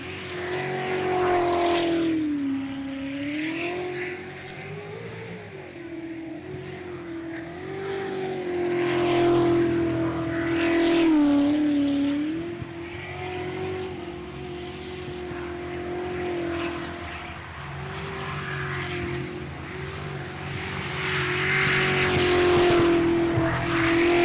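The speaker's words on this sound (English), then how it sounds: "A new engine in this boat." A racing boat with a new engine and 8-into-1 headers roars during a qualifying run, a loud sustained droning engine note that wavers in pitch and swells as it passes over about twenty-four seconds.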